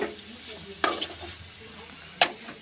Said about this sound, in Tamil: மேலே இருக்கிற கேரட் வந்து அடியில் போகிற மாதிரி கிளறி விட்டுக்கலாம்.